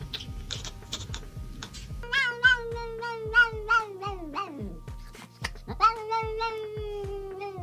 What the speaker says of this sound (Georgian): რატომ გამოსცემენ კატები უცნაურ ხმებს?